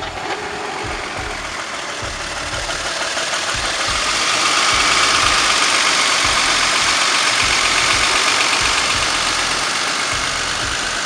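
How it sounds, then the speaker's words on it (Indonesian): A Jeep fitted with a Mercedes engine idles smoothly and loudly up close, a steady low rumble that swells slightly midway, with no voices. "Kita dengerin suara mesinnya"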